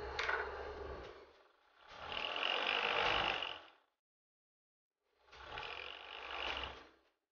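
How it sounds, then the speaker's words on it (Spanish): Overlock serger finishing a fabric seam, running in three close bursts of fast whirring, rattling stitching with short pauses between, loud and alone. "vamos a rematar con overlock"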